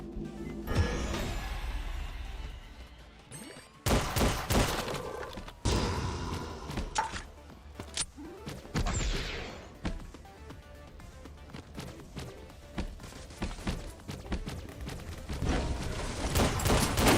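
Missiles and gunfire burst out in the battle royale video game Skillshot City, loud explosive thumps and rapid fusillades in irregular clusters, with a brief dense volley near the start and scattered blasts and impacts following.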